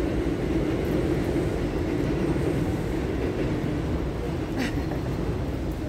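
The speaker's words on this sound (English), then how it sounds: "and of course the train is over us." Loud, steady low rumble of a train passing close overhead, with dense rattling texture throughout and a brief higher squeal near the end.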